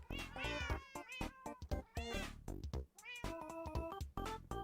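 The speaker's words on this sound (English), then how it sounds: "Oh my god, there's so many cats. Can you hear these cats?" Many cats meow inside a cat cafe, a dense, close chorus of overlapping meows and yowls of varying pitch, loud and continuous.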